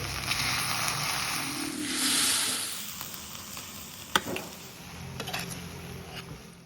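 Okra curry simmering in an open pan with buttermilk added, giving a soft bubbling sizzle with a brief louder hiss partway and a couple of sharp utensil taps, no speech.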